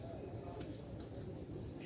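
Black-faced pigeons kept by a fancier, their soft low cooing close by and continuous through a short stretch, with a steady murmur of background noise.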